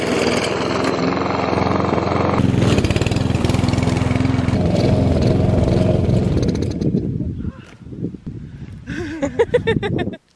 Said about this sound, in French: je ne pensais pas avoir assez de force pour réussir à allumer la tondeuse